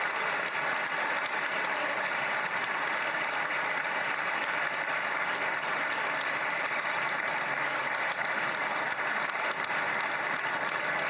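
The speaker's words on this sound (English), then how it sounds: "So they're clapping for Witkoff because he's part of the deal." Sustained, dense applause from a large crowd honoring Steve Witkoff at an event held over a Middle East peace deal, steady and even in loudness throughout, with no voices rising above it.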